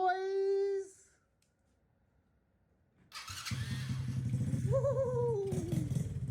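A mini quad's small engine fires up after a pause and revs hard as it rides off, a buzzing, rising drone that climbs and falls in pitch, loud and close.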